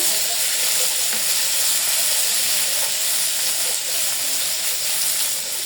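Fish and okra frying in hot oil in a pan, a steady close sizzle and hiss with a few faint stirring clicks, heard alone with no talk.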